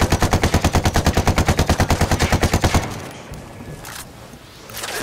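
Rebel automatic gunfire in Ghost Recon Wildlands, a loud rapid burst of evenly spaced shots lasting almost three seconds, then quieter distant rumbling and scattered noise.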